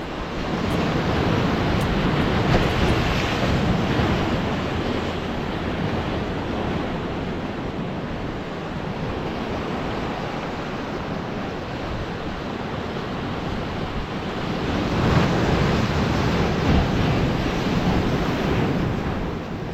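Sea waves breaking on the beach at Shankarpur near Digha, a continuous loud roar of surf mixed with wind buffeting the microphone, swelling again near the end with no voices.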